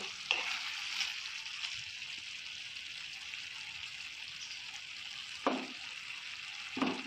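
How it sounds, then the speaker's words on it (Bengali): Potatoes and peas cook in a covered pan, a soft steady sizzle and bubbling with a few faint scraping stirs scattered through, quiet and close, no talking. "আলুটাকে ভালো করে একটু নেড়ে দেবো।"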